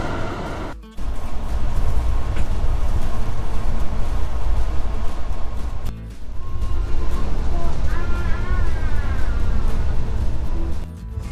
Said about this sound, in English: So we're on board this standard intercity train of TRENITALIA.